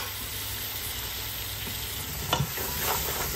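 Potatoes for a fish chowder sizzle steadily in a hot pot, with a brief clatter of stirring and scraping partway through under the constant frying hiss.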